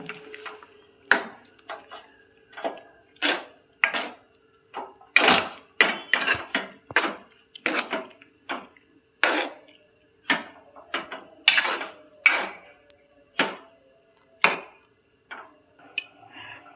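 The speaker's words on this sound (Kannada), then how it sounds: "ಪದಾರ್ಥಕ್ಕೆ ತೆಂಗಿನಕಾಯಿ ಹಾಕಲಿಕ್ಕೆ ನಾವು ಕಟ್ ಮಾಡ್ತಿದ್ದೇವೆ" A whole coconut is hacked with a knife to add to a curry, giving a long series of sharp, separate chopping impacts with irregular gaps, close and fairly loud, with no talking.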